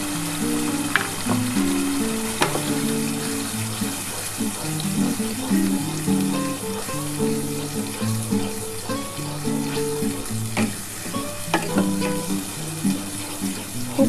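Sour yogurt poured into hot oil with pointed gourd, a steady close sizzle and bubbling frying hiss that runs continuously with faint clinks of utensils.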